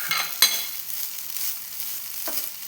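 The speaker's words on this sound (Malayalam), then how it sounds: "എടുത്ത് വെച്ച തേങ്ങ അതും കൂടിയിട്ട് ഒന്ന് വഴറ്റിയെടുക്കുക." Grated coconut sautéed in a pan for elanji, a soft close sizzle with a few brief stirring scrapes, no talking.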